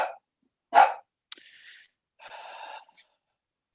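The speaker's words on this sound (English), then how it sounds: "Somebody's dog's barking." A dog barks somewhere in the background during an online town planning and zoning commission meeting, a short sharp bark amid brief breathy noises and buzzy audio bursts from a remote call connection.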